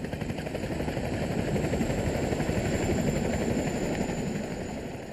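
A helicopter's rotor chops steadily nearby, a loud continuous thudding drone that holds throughout.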